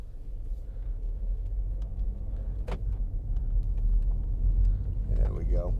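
A 2015 MINI Cooper D automatic driving on the road, a low steady engine and road rumble close inside the cabin, with someone talking briefly over it near the end.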